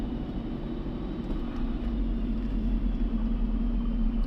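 A car engine idling steadily at about 1100 RPM during tuning, a continuous low rumble and hum with no gaps, close and even throughout.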